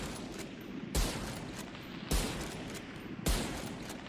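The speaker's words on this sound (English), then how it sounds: "And this is what it shoots like when you're scoped." Three loud, sharp sniper rifle shots from a scoped weapon in the video game VALORANT, evenly spaced about a second apart. Each crack is followed by a lingering tail over a steady background hum, with no voices.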